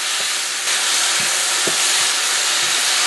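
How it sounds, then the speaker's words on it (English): Beef browns in a hot pan with a steady, close sizzle and hiss that holds even throughout, with faint scrapes and stirring underneath. "the first thing I'm going to do is I'm going to brown this meat"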